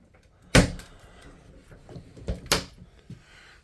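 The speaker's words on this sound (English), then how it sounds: "It's got doors that close." Hinged shower doors inside a Rimor Kilig 66 motorhome bang shut, with a sharp close near the start and a second firm close a couple of seconds later. Fainter clicks and rattles sit between the two closes, and no one speaks.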